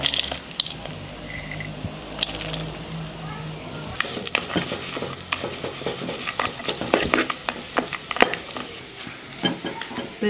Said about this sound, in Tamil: பெருங்காயம் வறுக்கிறதுக்கு நல்லெண்ணெய் கொஞ்சம் ஊற்றிக்கிறோம்.